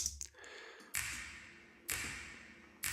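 Snap 1, a snap sample from the Function Loops Tropical House Percussion pack, played three times at an even pace, each crisp attack followed by a reverberant tail, with a faint ringing tone underneath.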